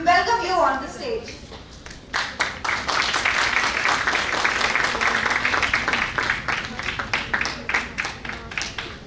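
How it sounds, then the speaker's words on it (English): An auditorium audience at a college festival applauds as a guest comes on stage, loud sustained clapping following a brief announcement from a speaker. "With a round of applause and cheer, we welcome you on the stage."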